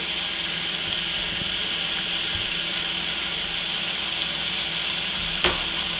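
Mushrooms and onions sizzle steadily in a hot pan for chicken lettuce wraps, an even, continuous frying hiss with faint stirring scrapes and a brief sharp clatter near the end, no voices.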